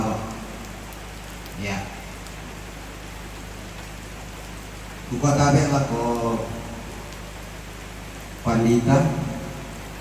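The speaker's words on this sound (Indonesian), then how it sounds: "hujan tidak bersahabat" Rain falls steadily at a funeral comfort service, a constant soft hiss under everything, while someone speaks in short bursts over it.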